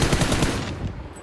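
Rapid gunfire from the battle royale video game PUBG, a loud burst of close shots in quick succession over the first second that then fades into a softer tail.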